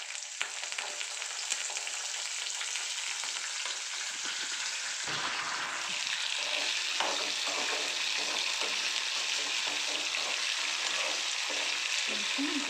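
Lemon rice (pulihora) being mixed in a pan, with a steady sizzle and continuous scraping and stirring. The sound is loud and close and runs throughout, with no talking.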